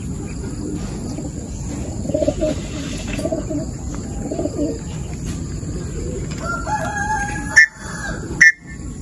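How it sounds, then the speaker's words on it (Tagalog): Racing pigeons at a club loft during training, with soft low cooing and fluttering under a steady outdoor background, followed by a couple of sharp louder bird calls near the end. "So meron na tayong 5 mga kalapatids."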